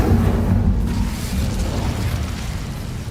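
Incendio fire spell cast in Hogwarts Legacy, a dense rushing burst of flame and rumble that starts loud and gradually tapers off over a few seconds.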